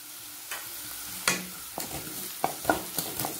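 Onions and curry leaves sauté in a pan with a soft, steady sizzle, broken by several sharp clinks and scrapes of a spoon stirring, close by and with no talk.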